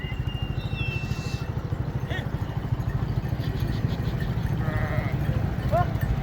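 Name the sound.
sheep and goats bleating on the road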